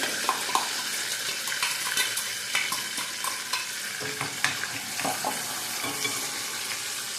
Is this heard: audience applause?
no